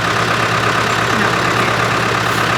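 A farm tractor's engine runs at a steady idle close by, a loud, unbroken drone with a low throb. The tractor is being readied to pull storm-fallen trees out of a fenced yard.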